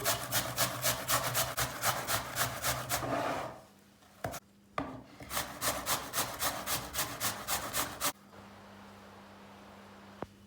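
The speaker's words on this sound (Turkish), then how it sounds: "Sıra geldi patatesini rendelemeye rendenin en büyük gözünden öneriyoruz." Potatoes rubbed over the coarsest holes of a kitchen grater in a steady rhythmic series of rasping strokes, close and loud, pausing briefly midway before resuming, then stopping to a quiet background hum.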